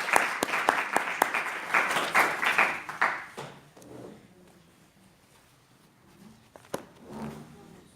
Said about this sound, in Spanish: Estos aplausos son para ti.